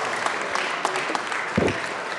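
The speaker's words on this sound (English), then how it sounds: "If you could give them a round of applause in the back" Applause from a crowd in the Colorado House of Representatives chamber during a legislative session, a steady wash of clapping at moderate distance that holds evenly through the short stretch.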